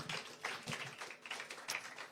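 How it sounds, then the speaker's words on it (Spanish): Church congregation clapping for Jesus Christ, a brisk burst of many hands applauding together, moderately loud and fairly close, with a few sharper individual claps standing out. "¿Quieres ofrecerle un aplauso al Señor Jesucristo?"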